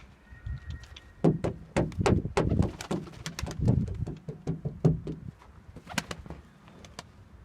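Pet pigeons outside around their coop make a close burst of sharp wing claps and flutters mixed with soft cooing. The flurry is busiest in the middle and then thins out to a few scattered claps.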